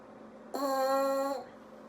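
A single sustained buzzing tone from a brass mouthpiece, about a second long, bright and reedy, starting abruptly and then cutting off.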